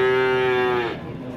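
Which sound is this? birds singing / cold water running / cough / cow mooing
cow mooing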